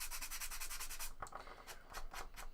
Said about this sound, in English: these little sanding blocks are just gentle enough that you're not going to take off a massive amount of paint all at once